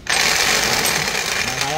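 A rotary hammer drill fitted with a 17 mm bit runs in drilling mode, giving a loud, continuous, close-range whirring hammer that stays steady throughout.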